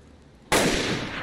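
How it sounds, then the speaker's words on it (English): A single loud in-game gunshot fired at zombies in the video game DayZ, bursting suddenly after a quiet stretch and ringing out with a long sustained tail. "I'm gonna shoot their legs."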